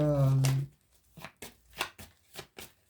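Tarot cards are handled and laid down on a surface during a French reading, giving a short shuffling burst followed by several soft, separate slaps and rustles spaced about half a second apart, close and fairly quiet.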